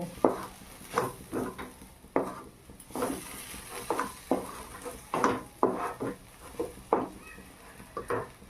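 Spices such as chaat masala and ground cumin stirred and fried in a pan for a lentil dish with kulekhara greens, with repeated scraping and clinking of a utensil against the pan in an irregular rhythm, close by, over a soft sizzle.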